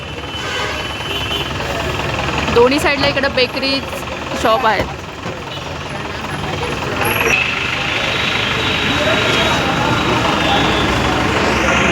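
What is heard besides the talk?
road traffic jam with trucks and engines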